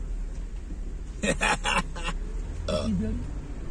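A man burps loudly in a short series of belches lasting about half a second, with a second, weaker burp after a pause, inside a vehicle on a snowy jeep rally from Muzaffarabad to Gangachooti, Azad Kashmir.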